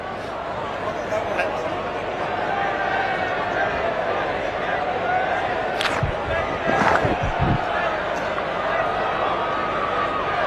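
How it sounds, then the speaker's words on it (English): Cricket stadium crowd cheering after a final delivery, a broad steady roar of spectators with a few sharper bursts and shouts near the middle, while commentators talk over it throughout. "Oh, the crowd are loving it, and so am I."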